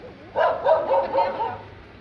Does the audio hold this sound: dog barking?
yes